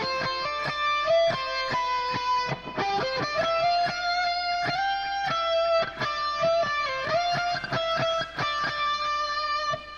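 An electric guitar plays the intro solo of a song, a fast run of bright, sustained lead notes and arpeggios with slight distortion, continuous and up close with no voices.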